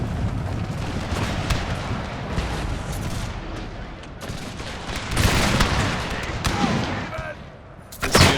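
Volleys of arquebus fire crackle in a Total War battle set in the Thirty Years' War, with scattered shots building to heavier bursts near the end, while a voice talks over the din.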